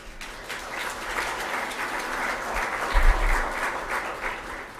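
An audience at a Panasonic worldwide marketing event applauds to welcome speaker Greg Stuart. The clapping is dense and steady, a full room's worth, swelling slightly near the middle and continuing throughout.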